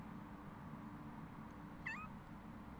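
A single short meow rises out of steady background hum near the two-second mark, faint and brief, from a litter of four young kittens kept with their mother.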